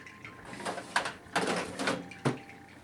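A makeup storage drawer in a six-drawer cosmetics organizer slides open and shut in a few short scraping pulls with light knocks, close and fairly quiet, with no talking.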